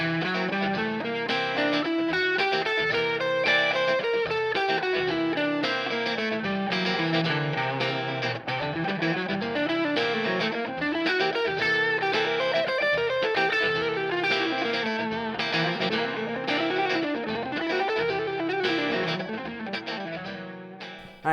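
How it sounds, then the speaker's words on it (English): A Lydian dominant scale played on electric guitar through effects with distortion and chorus, notes running up and down in continuous flowing lines, loud and close, no talking. "this scale has an intervallic construction of 1 2 3 sharp 4 5"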